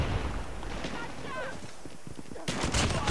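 Shotgun blasts in Call of Duty Mobile gameplay, sharp booming reports scattered through the clip amid busy game noise, with a louder burst near the end; voices talk over it.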